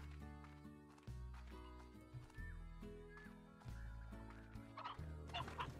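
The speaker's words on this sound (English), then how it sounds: "Hey, there's chickens here." Chickens in the Slime Rancher video game cluck and gobble in repeated rhythmic bursts, a nasal, tonal chatter layered with faint squeaks, moderately close and without talk.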